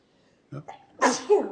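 A single sharp sneeze erupts in a community meeting room, preceded by a brief murmured voice and a short breathy intake, the burst loud and close before trailing off.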